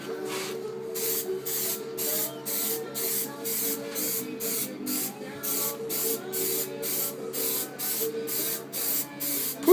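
Plasti Dip aerosol can spraying the rear window trim of a Chevy Blazer, a steady run of short hissing bursts repeated about every half second, close and loud, with no talk.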